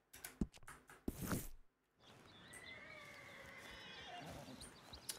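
A horse neighs in Red Dead Redemption 2, giving two short sharp snorts or whinnies and then a longer whinny, with a quieter ambient wash and a faint whistling call afterward.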